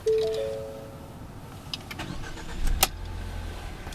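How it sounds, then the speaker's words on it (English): A 2014 Ford Fusion SE with the 2.0-liter EcoBoost engine, heard from inside the cabin: a chime and faint clicks, then a brief cranking surge as the engine catches and settles into a low, quiet idle. "We'll go ahead and start it up. This is the 2-liter EcoBoost, as I mentioned already."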